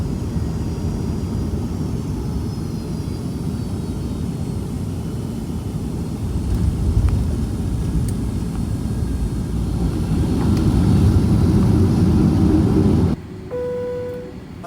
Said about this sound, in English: let's enjoy this 757 landing into DFW